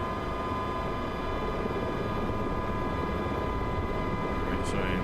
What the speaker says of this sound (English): Alright, so I'm adding some power here.